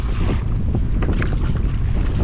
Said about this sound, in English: winds are about 11 miles per hour right now